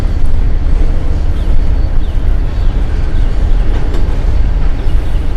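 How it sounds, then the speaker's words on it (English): A freight train with DPU locomotives rolls past close by, a loud, continuous rumble and clatter of wheels and cars with no talk. "here come a couple DPUs on our train."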